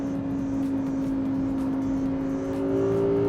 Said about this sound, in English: the drama of the V10 engine is just something a turbocharged engine, it just can't replicate that noise